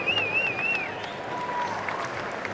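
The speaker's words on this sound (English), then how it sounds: "the applause echoing round here now for Refuse to Bend" A racecourse crowd applauds the winning horse after the 2003 2,000 Guineas, a faint, distant, steady wash of clapping and crowd noise with a whistle-like tone briefly above it.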